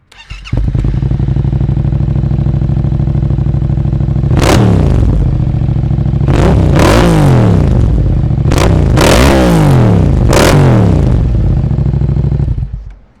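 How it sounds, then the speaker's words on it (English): A Yamaha MT-07 motorcycle fitted with an Akrapovic carbon fiber exhaust idles loudly and close with a deep, throbbing parallel-twin burble, broken by five or six sharp throttle blips that rise and fall quickly before settling back to idle. "We're going to start up the MT-07, see how she sounds, give it a few revs."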